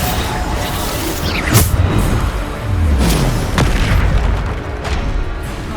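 Bombarda spell explosions in the video game Hogwarts Legacy, a series of loud, deep booms with rumbling tails and magical whooshing sweeps, several blasts in quick succession over a dense combat background.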